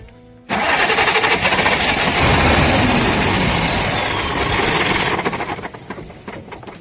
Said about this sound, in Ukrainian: І запустимо двигун, щоб помпа провернулася.